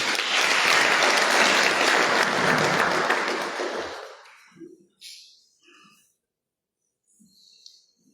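A hall audience at an HIV/AIDS seminar in the Comoros applauds to welcome the Global Fund representative, with dense, loud clapping for about four seconds that fades out and leaves a few scattered faint sounds.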